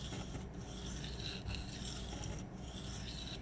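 Freehand sharpening of a Spyderco Sage 5 knife with an M4 steel blade on a stone, heard as a steady, close raspy scraping in even strokes, with brief breaks near each second.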